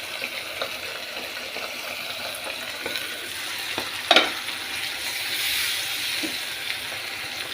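Oil frying in a partly covered pan, spattering so much that it jumps out, as a steady close sizzle and hiss with a few sharper pops and crackles, heard alone without talk.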